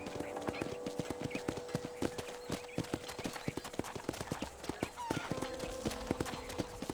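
Steady clip-clop of horse hooves plodding at an even rhythm at a ranch corral in Red Dead Redemption on PS5, close by, with a soft musical tone and a voice faintly underneath.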